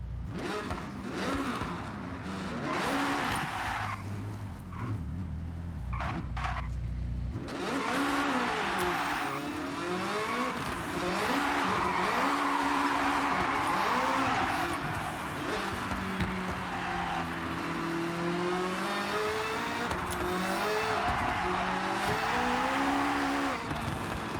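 In a video game, a Camaro fitted with a swapped 5.5 liter flat-plane-crank V8 revs and accelerates through shifting gears, engine pitch climbing and falling with bursts of tire squeal, fairly loud and continuous with no talk.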